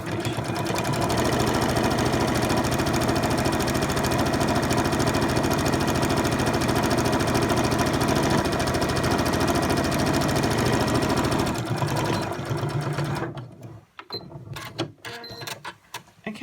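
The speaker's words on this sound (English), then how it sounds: "fold this fabric underneath while I sew my tie shut" A sewing machine runs steadily and loudly, stitching a fabric tie on a scrubs gown, then stops near the end, leaving a few faint clicks and handling sounds.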